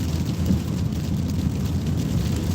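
Rain falls outdoors on a rainy Saturday morning in Ohio, a steady dense patter with a low rumbling wash beneath it, loud and continuous, no voices.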